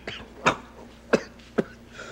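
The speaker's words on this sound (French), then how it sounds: "Toussez-vous souvent comme ça?" A man coughs in a short dry fit, three sharp separate bursts close to the listener in a quiet room, in a French-language period drama series.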